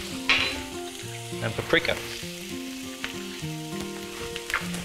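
Cumin, coriander and paprika fry in a pan as the base for a lamb, potato and spinach curry, a close steady sizzle with a few sharper crackling bursts and stirring, under background music.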